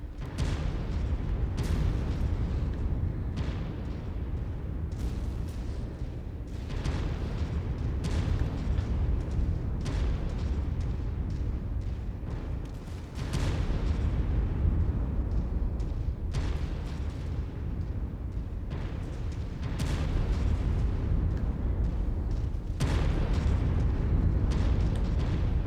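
Missile strikes and explosions in the video game MechWarrior 5 at an enemy base, a continuous barrage of heavy booms and blasts layered over a steady rumble, with fresh detonations every few seconds.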